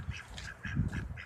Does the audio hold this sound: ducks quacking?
yes